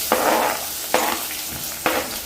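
Vermicelli with onion fries in a pan as a hot, loud sizzle, broken by three spaced scraping stirs of a spatula against the metal, close up with no talking.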